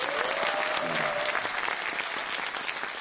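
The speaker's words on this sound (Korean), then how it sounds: "큰 박수 한번 해요." Audience applause fills the clip, a dense steady clapping from a crowd, with a brief faint voice or tone audible early on.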